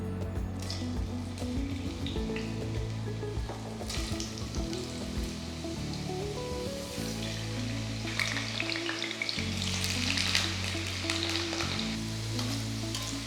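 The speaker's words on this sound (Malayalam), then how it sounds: "എണ്ണ നന്നായിട്ട് ചൂടായി, കുറച്ച് ഉരുളക്കിഴങ്ങ് ഫ്രൈ ചെയ്തെടുക്കുക" Potato fingers deep-frying in hot oil give a constant crackling sizzle, loud and close, with occasional stirring and spoon clinks partway through.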